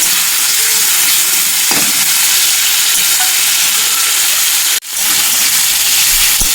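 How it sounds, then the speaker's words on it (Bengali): Tomatoes sauté in a pan for a spicy egg kosha, a loud, close, continuous sizzle with faint stirring scrapes and one brief drop in the noise partway through. "টমেটোটাকে ভালো মতো কষাবো যতক্ষণ না টমেটোটাকে গলে যাচ্ছে"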